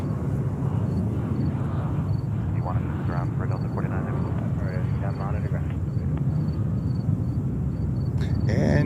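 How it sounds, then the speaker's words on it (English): A Cargolux Boeing 747-8 cargo jet arriving from Miami rumbles in a steady, moderate roar in New York while people talk over it. "And oh, it's Cargo Lux coming in."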